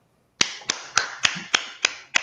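Slow, evenly spaced clapping from an open mic audience: seven sharp, loud claps in a steady rhythm, with no talking.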